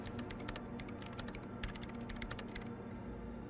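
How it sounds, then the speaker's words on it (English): Rapid typing on a computer terminal keyboard in the Disco Elysium video game, a dense run of light clicky keystrokes at an uneven fast pace over a low steady hum, close and without talk. "She's behind the keyboard now, typing in some numbers that only she understands."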